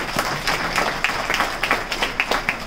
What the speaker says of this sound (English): Let's give Major Earle Johnson a round of applause for being here.